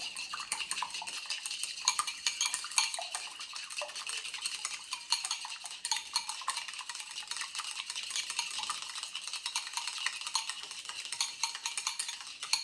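Egg whites, five of them, beaten by hand in a bowl for scallop fried rice, giving a steady fast clatter of utensil against the bowl that runs continuously and close up with no talking.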